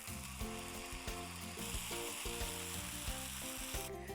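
Pancake batter sizzling on a hot griddle, a steady close crackling hiss with no voices, running on under light background music.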